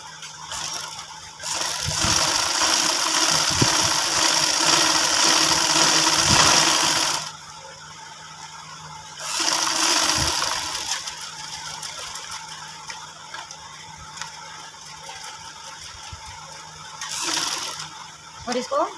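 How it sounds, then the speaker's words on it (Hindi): A sewing machine stitching the pointed tip of a men's front placket, heard in two loud rapid whirring runs with a shorter burst near the end, separated by quieter gaps with faint handling sounds. "फ्रंट पट्टी की नोक पे यहाँ पे सिलाई लगानी है"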